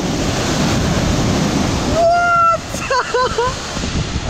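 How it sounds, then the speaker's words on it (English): Ocean waves crash against sea cliffs with a loud, windy roar of surf that swells then drops away, while an excited voice exclaims and shouts briefly over the water. "the waves almost come up here, look!"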